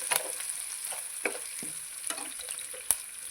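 Chopped onions and curry leaves fry in hot oil, a steady bright sizzle with scattered pops and crackles and occasional scrape of a stirring spoon, close and without talk.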